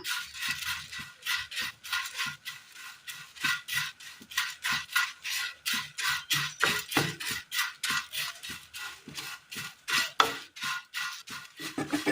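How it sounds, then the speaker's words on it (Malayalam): White poha (aval) roasting in a pan on the stove, stirred steadily with a metal spoon that scrapes and clinks in a quick, regular rhythm, close and clear, with no talking over it. "ഇതൊന്ന് വറുത്തെടുക്കണം."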